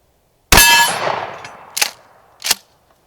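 A Remington 870 shotgun fires a 1-ounce slug, a sharp loud blast followed by two distinct metallic clangs as the steel target rings, each ringing decaying quickly.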